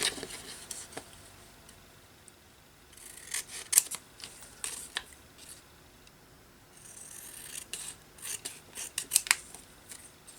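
Small paper pieces are cut out with scissors for a collage, giving repeated crisp snips and rustling paper in irregular bursts, close and fairly quiet, with no talking.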